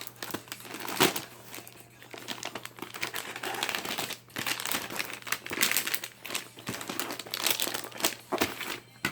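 Album packaging for an unboxing being cut open and crinkled, close and continuous, with bursts of rustling plastic and paper crackle.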